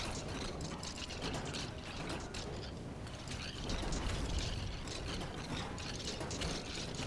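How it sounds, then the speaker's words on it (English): Skeleton bones rattle in a video game, a dense, fast clattering and clicking like a ratchet that runs continuously at moderate loudness with no speech. "Even the bone noise, I like the skeleton noises."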